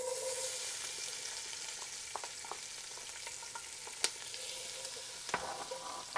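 Onions sizzling in a hot pan after beef short ribs have been seared, a steady close crackle broken by occasional sharp clicks and scrapes of stirring, with no one talking.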